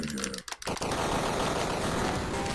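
Rapid shooting at a boss in the Amiga game Menace, a dense, continuous stream of clattering gunfire after a brief break, loud and steady throughout.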